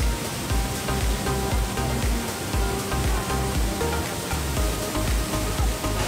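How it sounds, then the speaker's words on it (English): A waterfall in Ubud, Bali, heard from close by as a loud, constant broadband rush of falling water with no break, with no voices over it. "getting so close to the waterfall is just amazing"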